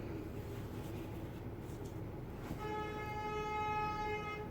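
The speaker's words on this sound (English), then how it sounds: "Sorry, there's cars honking out front." A car horn honking outside the house in front, one sustained tonal blast rising out of steady background noise, moderately loud and somewhat distant.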